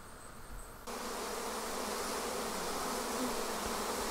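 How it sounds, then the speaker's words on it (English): Honeybees buzz densely at a hive, a soft hum that suddenly swells into a loud, continuous swarm drone close by. "As you can see, there's a huge amount of bees here, and we just don't want to lose them."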